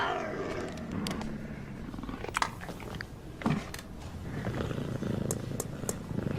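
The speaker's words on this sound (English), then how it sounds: "It's a puma." A puma growls and purrs up close in a rough, continuous rumble, with a couple of brief louder snarls or bites standing out partway through.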